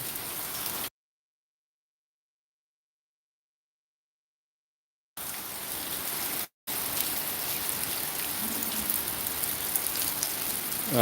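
Rain pours steadily onto the roof of an old house that has no gutters, a dense hiss of drops heard alone, broken by a long silent gap and a brief dropout.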